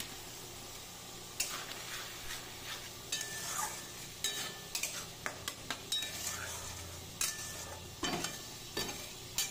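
Spices with chili and turmeric powder frying in a pan, a soft, steady sizzle broken by repeated clinks and scrapes of a spoon stirring against metal, close up with no talk.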